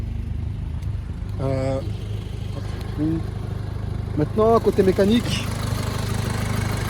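An Audi S3 engine idles with a low steady rumble throughout, while someone talks over it close by.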